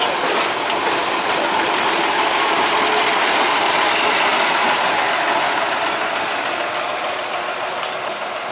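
A sugarcane train locomotive runs on the line to the plantations near Jombang, giving a steady, broad engine roar with rail rumble that holds at an even level throughout.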